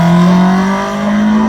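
A hillclimb race car powered by a Vauxhall 2-litre red top engine at Harewood, its loud, close engine note holding a steady high drone with a slight dip and recovery over a brief moment.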